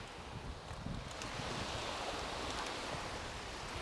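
Steady low wind rumble buffeting a field recorder on the seafront at Saltburn-by-the-Sea, blended with a continuous wash of distant surf, with no voices.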